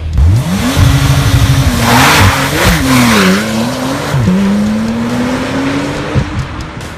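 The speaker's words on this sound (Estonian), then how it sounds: "Ja selleks hetkeks on auto sees juba 110 km tunnis ja siis peab ta ka kohe seisma jääma." A Porsche Carrera 4S accelerates hard on a track, engine note climbing steadily through gears with brief shifts and a sustained loud roar, close and continuous for several seconds.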